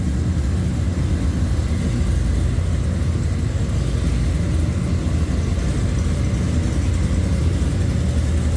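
A 1963 Chevrolet Impala Custom engine rumbles steadily at idle with a deep, throaty note from a side-exit exhaust in front of the rear wheel, close and loud, with no voices.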